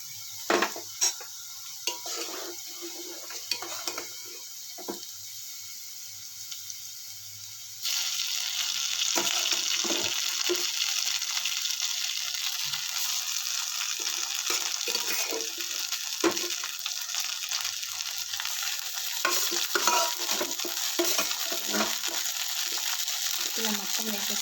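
Roasted vermicelli for upma tips into a hot pan and is stirred, bringing a sudden, steady loud sizzle with scraping spoon-on-pan clinks over quieter earlier kitchen noise.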